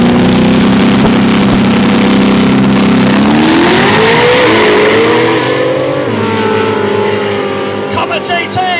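A 1955 Chevy and a Ford Comet drag racing on an airstrip, loud engine roar rising in pitch as they accelerate past, then fading, with a commentator talking over it.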